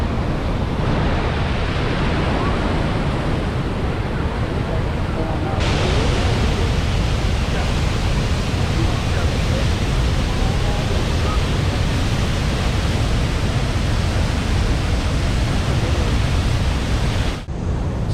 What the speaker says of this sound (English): All those rapids coming down, all of that going into the falls.